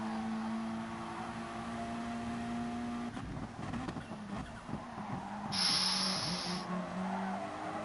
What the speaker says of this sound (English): You can hear all the tyres squealing.